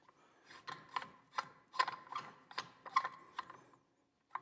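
Threaded plug and stem being screwed into a Hunterworks belt change tool for a Can-Am, giving a series of close, sharp metallic ratcheting clicks in an irregular rhythm, with no talk.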